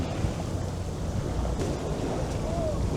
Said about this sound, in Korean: 이 바람 감당 안 되네 바람이 세네 바람이